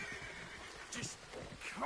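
A horse in Red Dead Redemption 2 whinnies in a few short, mid-loud bursts over a steady wash of outdoor ambience in the game.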